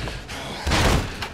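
A door is busted open in the video game Mafia III: a single heavy slam and thud midway through, preceded by quieter game ambience, no talking.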